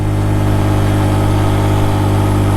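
A 150cc motorcycle engine runs close by at a steady idle, a loud, constant low hum with an even throb and no talk over it.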